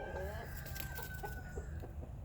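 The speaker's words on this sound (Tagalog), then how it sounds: "And this is my new chicken." Faint chicken clucking in a farm setting, a few soft low clucks at a distance under a quiet background.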